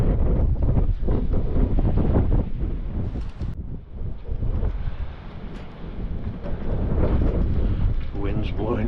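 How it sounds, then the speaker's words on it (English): Strong wind blowing through church ruins in a village, with a roaring, gusting buffet across the microphone that surges and dips, and a voice speaking faintly beneath it. "The wind's blowing through all the ruins quite strong."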